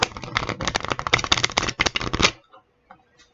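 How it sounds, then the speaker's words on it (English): Rapid riffling of playing cards, a dense flurry of crisp clicks close by for about two seconds, then near silence. "now I'm going to be shuffling the cards"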